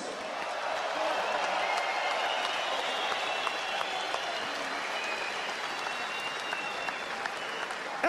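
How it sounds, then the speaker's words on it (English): Sustained applause from a boxing crowd after a twelve-round heavyweight fight, steady and fairly loud throughout, with scattered cheers mixed into the dense clapping. "can we please have a round of applause for these two fighters?"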